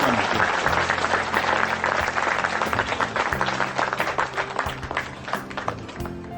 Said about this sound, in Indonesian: Tepuk tangan semua teman-teman sekalian untuk cinta kita bersama.